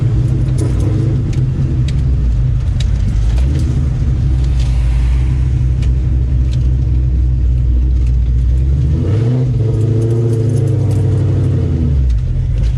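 A cammed Terminator Cobra engine roars close and loud at wide open throttle, a deep continuous rumble whose pitch climbs sharply near the end as it revs, with no talking.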